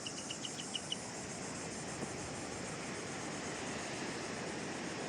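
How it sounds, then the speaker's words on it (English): A steady, shrill insect drone fills the air, with a few brief high chirps at the start over a constant hiss of background noise. "You can hear the sound of the cicadas is now diminishing"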